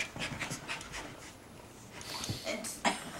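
A dog pants rapidly and heavily while playing with a puppy, with quick rhythmic breaths up close that pause briefly before resuming alongside small snorts and shuffling.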